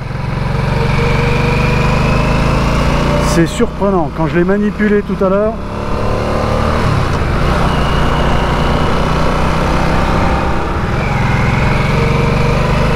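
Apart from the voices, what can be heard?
Harley-Davidson Nightster motorcycle engine during test ride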